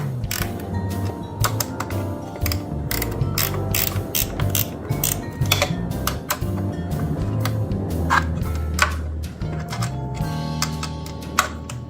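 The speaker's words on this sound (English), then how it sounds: "This one has plenty of room for a wrench." A wrench ratchets on a bolt, giving rapid bursts of sharp metallic clicks close up and loud. The bursts repeat in uneven runs with brief pauses between strokes, and nobody speaks.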